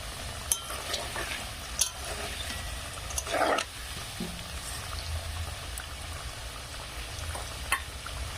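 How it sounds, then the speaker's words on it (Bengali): Potato pieces frying in a pan of hot oil for a chicken curry, with a low steady sizzle and occasional clinks and stirring scrapes from a utensil, heard alone without talk. "আলু কিন্তু খুব সুন্দর করে ভাজতে হবে"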